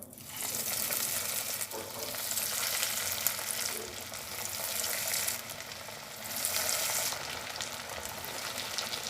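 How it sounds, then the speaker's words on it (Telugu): Chicken nuggets coated in breadcrumbs deep-fry in hot oil over a low flame, a steady, dense sizzle that swells and eases in waves, close and continuous with no talk. "నూనె వేడెక్కాక నగెట్స్ని ఫ్రై చేసుకుందాం."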